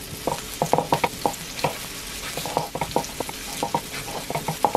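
Garlic and onion sauteing in a pan while being stirred, with steady sizzling and frying crackle under repeated scraping, clinking stirs at an even, unhurried rhythm, close up and moderately loud, with no talking.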